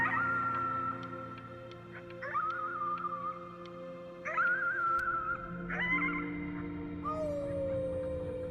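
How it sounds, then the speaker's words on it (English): A dog howls at the moon in the Before Your Eyes video game, a series of several long, wavering, tonal howls rising and holding, clear and fairly close. "You howled at the moon at the top of your lungs."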